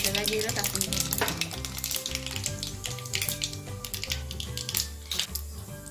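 Mustard and cumin seeds sizzling in hot oil, a dense, loud crackling and popping close by with rapid irregular snaps throughout.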